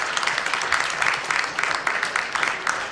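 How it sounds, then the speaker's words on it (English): An audience at a national policy forum applauds, many hands clapping in a moderately loud, continuous patter with a faintly pulsing rhythm. "let's give a big round of applause to both of"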